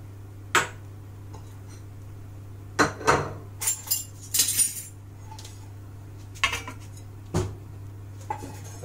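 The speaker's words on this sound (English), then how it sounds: "the thing you need to do first is to chop your onions" Knife chopping onions into small slices on a board for onion soup, a handful of sharp scattered knocks and clinks over a steady low hum, no talking.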